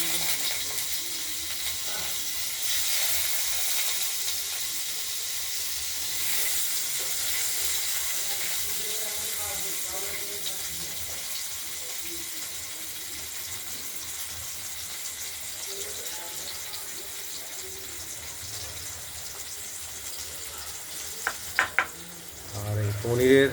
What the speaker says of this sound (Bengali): আগেই তেল গরম হয়ে গেছিলো, আমরা অল্প অল্প করে ভাজা করে নেব